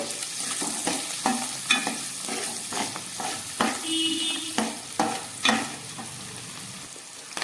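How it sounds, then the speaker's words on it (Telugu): Chopped green chillies, cumin and mustard seeds frying in hot oil, a continuous close sizzle broken by repeated scraping strokes of a spoon in the pan. "దీనిలో సన్నగా తరిగిన పచ్చిమిర్చి, జీలకర్ర, ఆవాలు కూడా వేసుకొని బాగా ఫ్రై చేసుకోవాలి"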